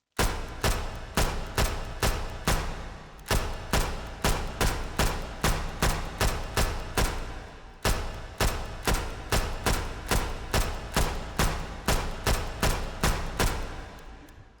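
An M1A1 Thompson submachine gun in the VR shooter H3VR empties a full 30-round magazine in short rapid bursts of sharp, loud reports, separated by brief pauses.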